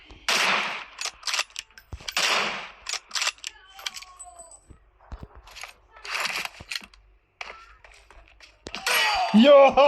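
A toy gun fires a series of sharp, dry pops in irregular bursts, close by. Voices chatter between the shots, and a child's excited cry comes near the end.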